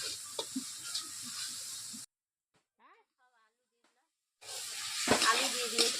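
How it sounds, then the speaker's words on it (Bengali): Spices sautéing in a pan for village-style chicken curry give off a soft, steady sizzle and hiss, broken by a few seconds of near silence before the frying sound returns, slightly louder and with occasional stirring scrapes. "এভাবে সব উপকরণ দিয়ে মশলাগুলো আমি 5 মিনিট কষিয়ে নিচ্ছি।"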